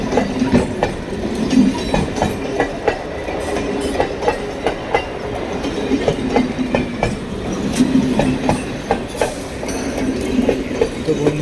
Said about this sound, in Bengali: তো ট্রেন আসছে, চক্কর রেল ট্রেনটা আসছে